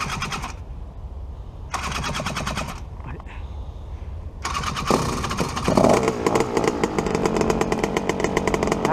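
A small two-stroke paramotor engine sputters to life in bursts, cutting out twice before catching and running steadily with a loud buzzing drone.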